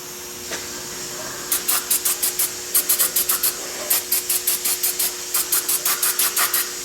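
Brake cleaner sprayed onto a rusty front brake caliper bracket of a Subaru Outback, washing off brake dust from old ceramic pads; repeated short hissing bursts come in quick regular groups, close and fairly loud, with no talking.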